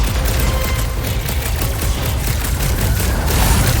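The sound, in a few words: gunfire in video game Marvel's Guardians of the Galaxy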